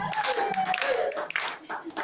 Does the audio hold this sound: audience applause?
yes